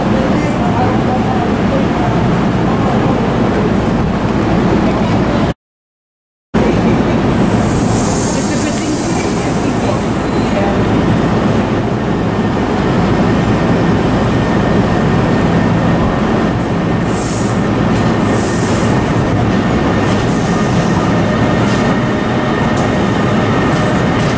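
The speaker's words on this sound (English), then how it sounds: "That three car SEPTA train, Silver Liner 4." A three-car SEPTA Silver Liner 4 train passes through Trenton Station on the Northeast Corridor, a loud sustained rumble of wheels and rails with brief high squeals, with someone talking over it.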